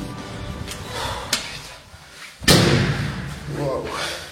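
A door slams shut with one loud, sharp bang partway through, set among a noisy background of other sounds in a Brazilian setting; a fainter knock comes earlier.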